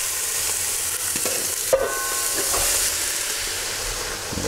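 Chopped vegetables sizzling in a pot for a beef cheek civet, a steady close frying hiss with light stirring scrapes and a brief clatter partway through, no talking.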